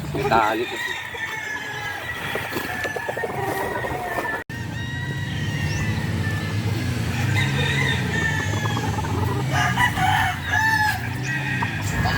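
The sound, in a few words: rooster crowing, broodcock number 12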